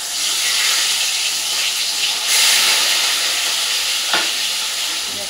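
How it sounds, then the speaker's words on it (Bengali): Pieces of fish frying in hot oil, a loud, dense, continuous sizzling hiss heard up close, swelling briefly with a sharp crackle near the end, no voices. "মাছটা এবার তেলের মধ্যে এক এক করে ভেজে দিই।"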